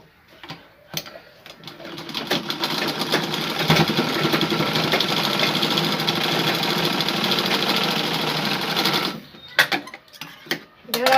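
A sewing machine joins two fabric pieces in one long, steady whirring run close by, followed by a few short clicks and handling sounds.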